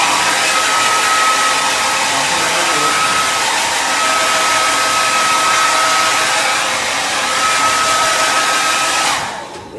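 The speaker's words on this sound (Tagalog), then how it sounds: "gamit ng blower para sa ating buhok" Hair dryer blowing on hair, a loud steady whooshing roar with a constant motor whine, close by, running almost the whole time before it cuts off abruptly near the end.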